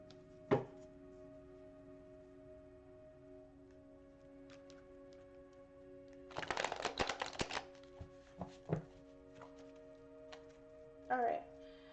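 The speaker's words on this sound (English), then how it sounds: "I'm going to shuffle a little bit," A brief burst of tarot cards being riffled and shuffled, close and crisp, with a few isolated taps and clicks before and after over a faint steady hum.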